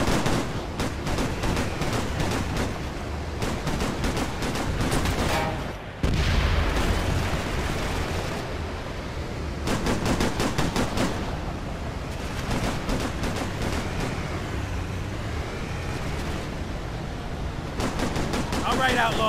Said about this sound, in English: They're shooting at us from both sides, and we're riding around in an open-top Humvee!